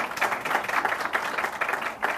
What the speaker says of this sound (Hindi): तालियां भी बज गई